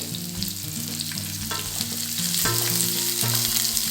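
Chopped onion frying in a pan with green chillies and curry leaves, a continuous loud sizzle with occasional stirring taps over a steady tonal background, no voices.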